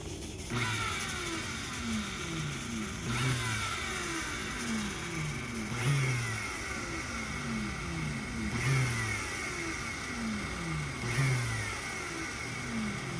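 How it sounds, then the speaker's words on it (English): A shop vac runs continuously alongside a smoke machine during a sewer smoke test for leaks, giving a loud, close motor drone that rises and falls in regular cycles about every two and a half seconds. "You've got to feather the shop vac, and you've got to activate your smoke machine."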